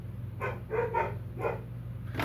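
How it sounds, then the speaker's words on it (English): Several dogs bark in short, separate bursts, a nearby cluster followed by another bark a moment later, over a steady low hum. "They're already barking."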